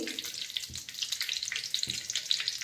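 Mustard seeds crackle and pop in hot oil for a spicy fry, a close, busy sizzle dotted with sharp little bursts, with no talking.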